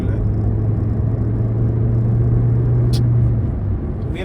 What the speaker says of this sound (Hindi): अब ये थर्ड गियर का पुल है।